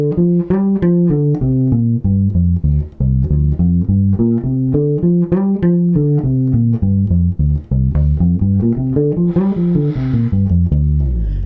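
A guitar fingerboard exercise joining scale shapes 3 and 4: a quick, even run of single notes climbing and falling in waves, loud and close, with no talking.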